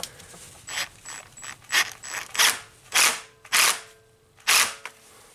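Ratchet snugging down a hose clamp on a Toyota Camry engine during repair, a series of loud, close clicking bursts in an irregular rhythm with short pauses, no talking.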